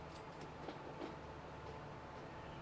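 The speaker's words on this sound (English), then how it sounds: "There's a train going the other way." A train rolls past in the Transport Fever 2 video game, a faint, steady rumble with a few soft clacks, heard alone and at a distance.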